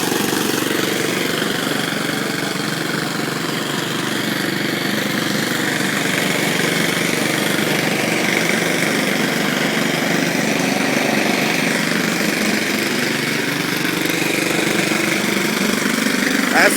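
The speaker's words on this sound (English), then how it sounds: "That's my 4-year-old mowing the lawn." A riding lawn mower engine runs steadily throughout while mowing a lawn, a loud, close, continuous drone with a slight pitch shift near the end.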